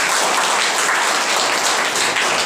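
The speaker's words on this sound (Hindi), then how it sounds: "एक बार तालियां बजा लो" An audience at a seminar applauds loudly and continuously, dense clapping filling the whole moment without pause.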